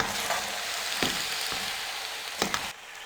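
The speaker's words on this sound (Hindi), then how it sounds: "और 2 से 3 मिनट के लिए इनको अच्छे से फ्राई करेंगे।" Chicken vegetable macaroni frying in a pot, a steady soft sizzle broken by a few sharp scrapes and knocks of stirring.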